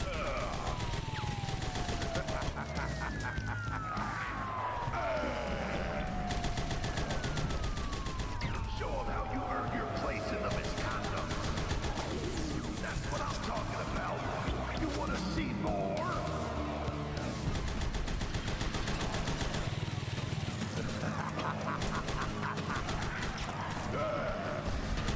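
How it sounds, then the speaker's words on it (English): A boss's arm-mounted gun firing in Huntdown: sustained rapid automatic fire with descending whooshing projectile sweeps, layered with arcade-style game effects and music throughout. "That is such a cool gun."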